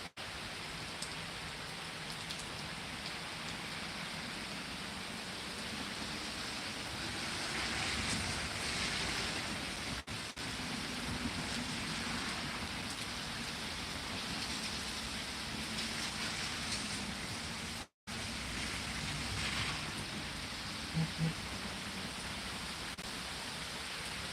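Steady rain falls during a Pittsburg, Kansas thunderstorm, a dense continuous hiss of drops on surfaces close by, with no distinct thunder claps standing out.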